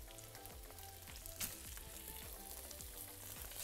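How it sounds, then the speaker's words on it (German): Seitan and vegetables fry in oil in a hot pan, a steady close sizzle with crackling spits and occasional scraping stirs, continuous throughout. "Dann kommt der Seitan in die Pfanne,"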